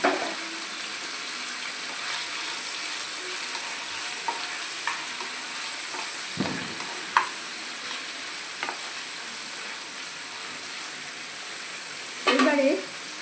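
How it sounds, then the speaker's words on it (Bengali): Onion and garlic fry in a pan for a chira polao, a steady close sizzle with scattered stirring scrapes and clinks, and a brief clatter near the end, no talking. "পেঁয়াজ আর রসুন একসঙ্গে দিয়ে দিলাম"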